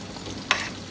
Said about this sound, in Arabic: هسه هنا نضيف الشبزي المحموس